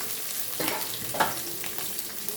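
Capsicum tipped into hot oil with asafoetida in a pan, giving a soft, steady sizzle with a few brief louder crackles and stirring scrapes, fairly close and low in level, with no talk.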